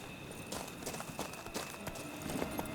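Roach, a horse in The Witcher 3, clip-clops along at a steady pace, a moderately loud hoof rhythm with broadband game ambience behind it and no voices.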